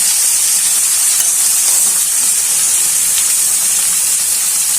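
Long beans (borboti) frying in a pan with cumin and green chillies, a loud, steady close-up sizzle and hiss throughout.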